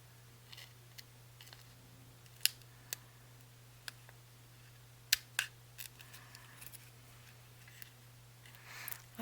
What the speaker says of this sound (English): Like I said, these scissors are really good.